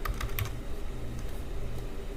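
Code being typed on a computer keyboard for a Spring Boot Hello World example in IntelliJ, with a steady stream of soft, close key clicks and a few sharper taps near the start, with no talking.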